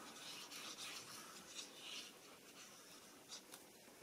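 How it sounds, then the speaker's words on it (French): Glue being spread onto one section of folded paper for a pop-up greeting card, a soft, close rubbing and scratching that repeats in short strokes, ending in a sharp tap. "Et je vais mettre de la colle que sur cette partie-là."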